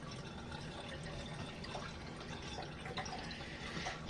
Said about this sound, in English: now that we are in the right amount of hot water, I'm going to let this thing drain out